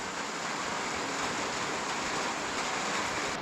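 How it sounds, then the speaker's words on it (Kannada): Steady rain pours over a village in Nagaland, a dense, even hiss that holds at a constant loud level throughout, with no voices. "ಬೆಳಿಗ್ಗೆ 9 ಗಂಟೆಯಿಂದ ಮಳೆ ಬೀಳ್ತಾ ಇದೆ,"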